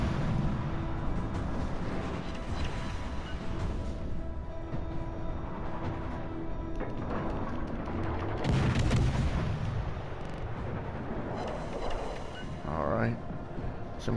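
Naval gunfire in World of Warships: Legends, a sequence of booming salvos and impacts against an enemy ship, some louder blasts partway through, heard under continuous game sound and talking.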